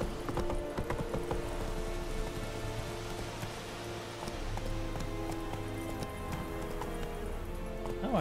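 Roach, the horse in The Witcher 3 video game, gallops with a steady, close clip-clop of hooves over a constant low rumble and patter like rain, lasting the whole stretch with no talk.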